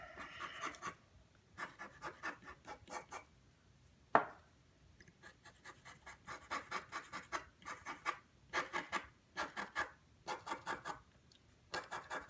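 A Conte pastel pencil is sharpened by rubbing it against an abrasive surface, giving soft raspy scraping strokes in repeated rhythmic bursts with brief pauses, close and quiet, with no talk.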